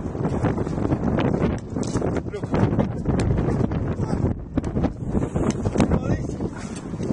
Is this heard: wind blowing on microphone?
yes